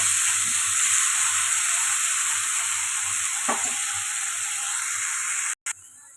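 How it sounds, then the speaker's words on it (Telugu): Tomato puree fries in a pan for a dhaba-style matar paneer masala, giving a loud, steady close sizzle. A single stirring scrape sounds midway, and the sound cuts off abruptly near the end. "ఇప్పుడు టమాటా కూడా కొద్దిగా పచ్చివాసన పోయేదాకా ఫ్రై చేస్తాం"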